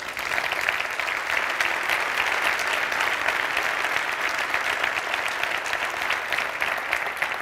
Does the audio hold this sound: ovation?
yes